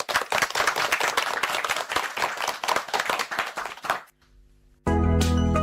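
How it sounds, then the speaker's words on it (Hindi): Applause closing a children's radio program, dense rapid clapping from a group lasting about four seconds before cutting off, followed by a short pause and then music. "तालियों के साथ।"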